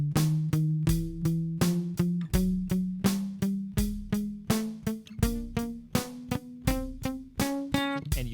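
A guitar plays a chromatic pattern in short, crisp, evenly spaced plucked notes over a slower drum beat with a regular thumping pulse, close and clear with no voices.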